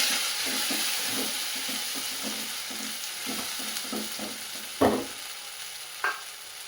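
Green pea paste and potatoes fry in oil in a pan for kochuri filling, with a steady soft sizzle under rhythmic spatula scrapes and two sharper knocks against the pan.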